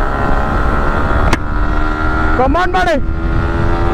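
A Bajaj Pulsar motorcycle's exhaust drones steadily while racing on a road in Coimbatore, with a short rising tonal sweep near the end and a voice speaking briefly over the engine.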